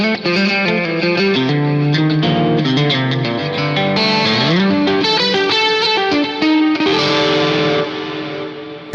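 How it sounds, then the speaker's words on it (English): Electric guitar on a split-coil pickup setting played through a BE100 amp model with effects, a bright, compressed overdriven tone ringing out in flowing melodic phrases, loud and close with no talk. "what is worth noting is this split coil tone"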